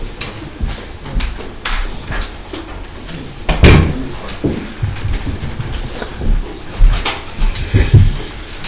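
A door in a room bangs and clatters several times, with one louder thud near the middle among scattered knocks and rustles, no talking.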